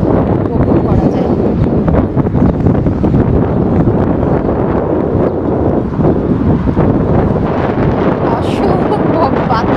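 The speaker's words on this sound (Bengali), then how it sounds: "আমি জানি না আমার কথা ঠিকঠাক মতো শোনা যাবে কিনা, যেহেতু প্রচণ্ড বাতাস" Strong wind buffets the microphone beside the river at Pier 35 in New York, a loud continuous roar with gusts throughout.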